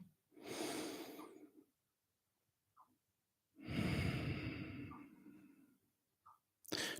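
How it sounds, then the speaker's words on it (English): Slow, deep breaths close to the microphone, two long airy inhales or exhales with soft snorting, separated by quiet pauses, with brief small sounds in between. "take a breath."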